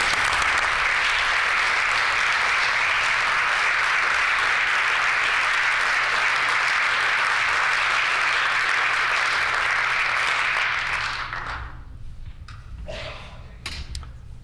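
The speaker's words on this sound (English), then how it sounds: "Let's give him a round of applause." Applause fills a legislative chamber, loud and even for about eleven seconds before breaking off into a few scattered claps and knocks.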